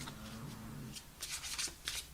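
Tarot cards shuffled by hand in a few quick riffled bursts toward the end, close and fairly quiet, after a low hum at the start.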